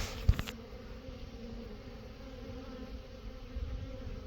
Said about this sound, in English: Let's check on the swarm that we got a few days ago in our swarm trap and see how they are doing in their hive.